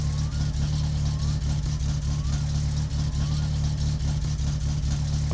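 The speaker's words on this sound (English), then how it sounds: "This car is so loud." A loud car with a missing exhaust pipe, its engine droning heavily and steadily at close range with a deep rumble, continuous throughout.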